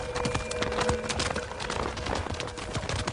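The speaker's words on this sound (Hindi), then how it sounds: "घोड़ा कहाँ ले जा रही हो?" A horse's hooves clip-clop in a quick, steady rhythm as it is led away, close and fairly loud, with a busy outdoor background.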